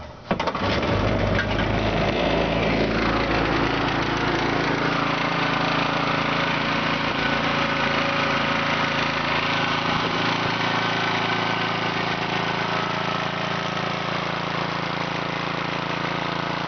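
A homemade outboard motor starts with a brief sputter, then idles steadily at close range, a continuous loud buzzing drone with no talk over it.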